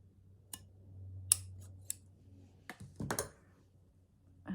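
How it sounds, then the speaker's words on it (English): Scissors cutting fabric for a feed sack quilt background, a few sharp snips and crisp clicks spaced apart, close up over a faint low hum. "So I'm going to cut it there."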